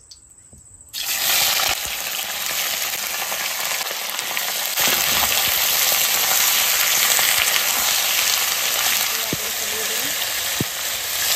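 Meat hits a pan of fried spices and sizzles loudly, a sudden burst of frying that settles into a sustained, strong hiss with occasional clinks and stirring.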